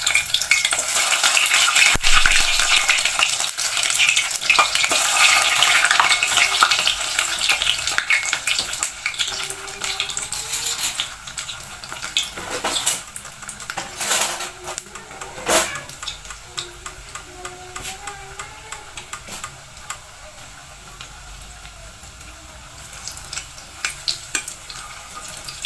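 Frozen cigar-shaped pastries fry in hot oil, a steady sizzling hiss throughout with a few sharper crackles and pops midway, close and fairly loud, no voices.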